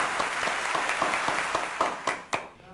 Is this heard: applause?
yes